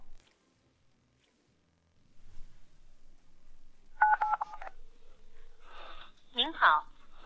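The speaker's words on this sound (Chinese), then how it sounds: "打电话给我老公" A phone number is keyed in during a kidnapping scene in a Chinese short drama, the DTMF button tones coming as a quick burst of about five beeps mid-clip, followed by whooshing and other effects.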